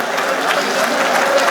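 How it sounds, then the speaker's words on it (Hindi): A crowd at an insurance advisors' gathering claps loudly. The dense, even applause runs without a break through the short moment, and faint voices sit beneath it. "तो जोरदार तालियां बजाइए ये लोगों के लिए।"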